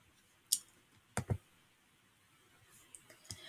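A computer mouse clicks a few times, sharp and close, as a payment dashboard is operated: a single click, a quick double click, then a couple of fainter clicks against quiet room tone.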